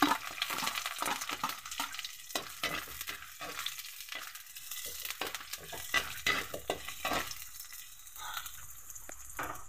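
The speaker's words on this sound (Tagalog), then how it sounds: "Mainit na yung ating mantika sa ating kwali. Magigisa na tayo ng bawang." Garlic and onion sauté in hot oil in a wok, a close, continuous sizzle with frequent scraping stirs and clanks of the utensil.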